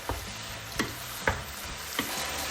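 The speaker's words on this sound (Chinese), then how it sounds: "将冬菇片炒熟以后，加入刚才炒好的鸡腿肉块" Chicken thigh pieces and sliced shiitake mushrooms stir-fried in a wok, with a steady close sizzle broken by four sharp spatula scrapes and clacks spaced about half a second apart.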